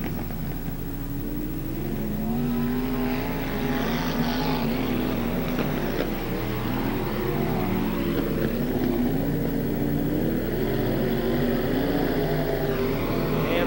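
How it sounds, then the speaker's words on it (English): UMP modified race cars roar around Beckley Motor Speedway in 1994, a loud sustained engine drone with rising and falling pitch as the cars pass, layered over steady crowd and track noise. "Right now, Keith Fields is just pulling away from the field"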